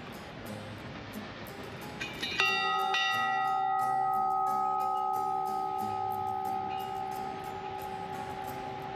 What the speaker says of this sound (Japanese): お、天使の鐘。